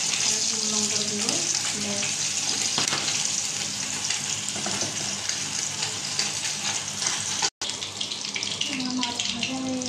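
Fish sizzling in hot oil with turmeric and chilli, a steady loud hiss and crackle of frying that runs throughout, with a brief break near the end.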